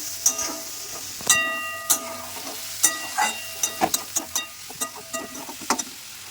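Fish curry masala for a bata fish jhol being sautéed in a pan, a soft sizzle under sharp, rhythmic clinks and scrapes of a spatula stirring, close up, no voices.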